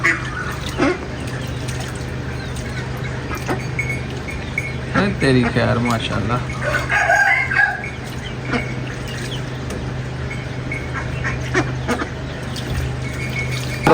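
Ducks quack now and then amid steady outdoor background noise. A voice speaks briefly nearby, partly over the calls.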